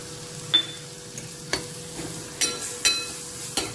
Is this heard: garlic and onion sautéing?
yes